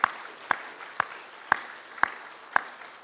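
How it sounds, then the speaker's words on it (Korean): A church congregation claps for the fathers during a Sunday service, giving six sharp, evenly spaced claps about half a second apart in a steady unison rhythm. "우리 아버지들께 큰 박수 한번 드립시다"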